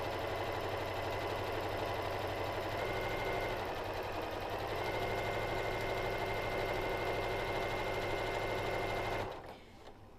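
Sewing machine running a quarter-inch seam down fabric, a steady, continuous motor whir and rapid needle rhythm for about nine seconds before stopping abruptly.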